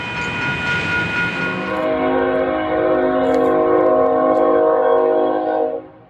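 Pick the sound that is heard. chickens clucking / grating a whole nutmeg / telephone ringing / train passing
train passing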